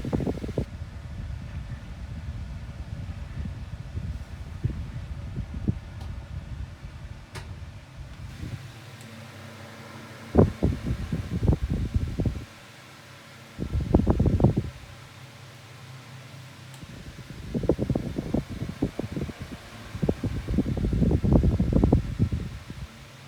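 Two Tesco 9 inch oscillating desk fans run at their highest speed side by side, producing a steady soft airflow hum with periodic swelling gusts of rushing air and rumble as the oscillating heads blow into each other.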